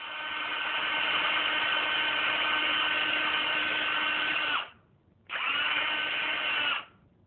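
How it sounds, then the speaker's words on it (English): A power drill with a 3/32 bit boring into canisters whines steadily for about four and a half seconds, stops briefly, then runs again for a shorter burst, close and loud with no talk. "Using the 3/32 drill bit, we will go ahead and drill the canisters both in the top and bottom."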